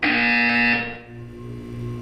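A loud, harsh buzzer from the video game Portal 2 blares steadily for under a second, then cuts off, leaving a quieter hum behind.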